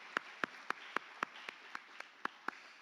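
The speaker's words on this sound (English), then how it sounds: "I guess one last round of applause is justified." Applause at an annual conference awards ceremony comes through as faint, evenly spaced claps in a steady rhythm, about four per second, distant and without voices.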